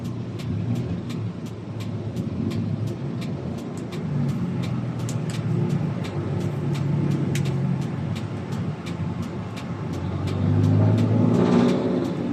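Road traffic on a Manila street between Quezon Avenue and the circle, heard from inside a vehicle: a steady low engine drone with passing cars and occasional revving, growing louder near the end, with no talk.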